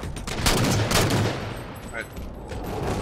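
Rapid gunfire in Halo 4 during a 2v2 match on the Haven map, a burst of sharp, loud shots in the opening second that then thins into scattered fainter reports, with a voice speaking over it.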